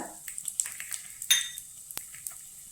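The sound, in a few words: stirring lentils, peanuts and cashews frying on low flame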